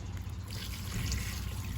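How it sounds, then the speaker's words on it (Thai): Rice-rinsing water poured steadily from a container over eggplant for pickling, a continuous close splashing and trickling sound with no talk. "นี่เทน้ำซาวข้าวที่เราเตรียมไว้ลงไป"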